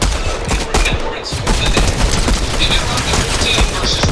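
Blaster gunfire in a Fortnite battle royale match, loud rapid bursts of shots packed closely together, with game effects and a voice briefly underneath.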